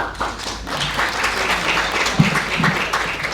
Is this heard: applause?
yes